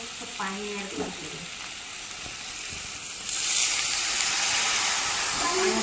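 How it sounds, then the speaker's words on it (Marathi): Paneer pulao masala sizzles steadily in a pan, and the hiss jumps louder and brighter partway through as water is added, continuing as a close, dense steam sizzle; a voice briefly speaks near the start. "थोडंसं पाणी ऍड करते"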